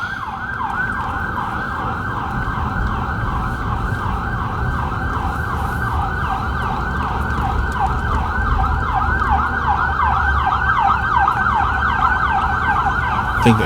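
Ambulance siren wailing in the streets of Dupont Circle, Washington, at night, a steady rising-and-falling yelp that stays loud and close throughout over city traffic rumble.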